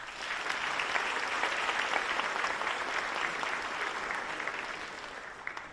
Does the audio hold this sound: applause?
yes